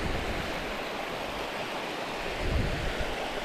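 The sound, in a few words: flowing water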